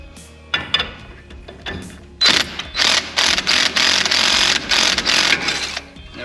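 Metal tools work at the outer tie rod ball joint of a Nissan 720 to pry it apart after its cotter pin and castle nut were removed. A few knocks come first, then a run of rhythmic, ratcheting mechanical rasps, all up close and clear.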